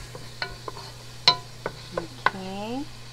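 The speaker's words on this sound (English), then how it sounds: "the bottom part is caramelizing from all this vegetable that's cooking" Pinakbet vegetables cooking in a pan, with soft sizzling under a few distinct clinks and scrapes of a utensil stirring, close and fairly quiet.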